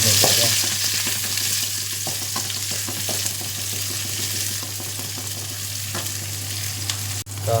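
Chopped onions sauté in a pan for beef kaldereta, a steady sizzle of frying running throughout with scrape-and-stir sounds from a spoon breaking up the onions, close and fairly loud, no talk.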